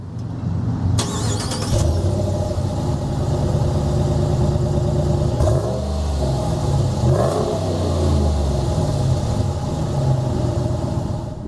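A brand-new brilliant black crystal truck's engine revs and accelerates while driving, a loud steady mid-pitched drone from inside the cab with rising surges throughout.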